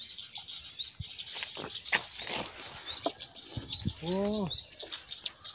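A trapped bird's rapid wing flapping and fluttering bursts mixed with chirps and a cooing bird call, with a brief exclamation from a person.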